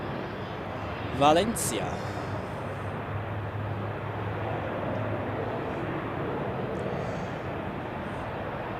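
An Airbus A320 departs Zurich Airport, heard as a steady, moderate jet rumble that continues throughout, with a brief spoken word near the start.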